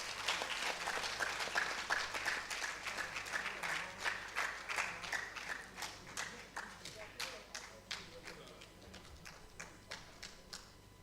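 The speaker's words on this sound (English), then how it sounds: "please give yourselves a round of applause." A large audience at a fellowship conferment session of an engineers' society applauds at length. The dense clapping is loud at first, then thins into sparser, distinct claps as it gradually fades.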